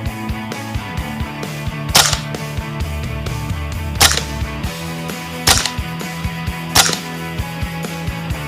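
MAC MK9K gun fired several times, sharp cracking shots spaced a second or two apart over a steady background of clicks and low rumble, with no speech.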